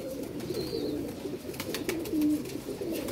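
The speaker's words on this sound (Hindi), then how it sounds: "ये देखें ज़रा रेड आइज में कबूतर" Red-eyed pigeons coo softly in a series of low, murmuring calls, fairly faint against a light background hiss, with an occasional brief higher chirp.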